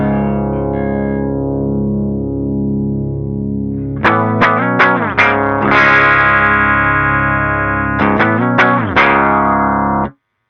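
Electric guitar through a Dark Face amp model on an Antelope Audio ZenTour Synergy Core interface: a long sustained chord, then bursts of quick strummed chords and ringing held notes, loud, close and mildly overdriven, with no voices.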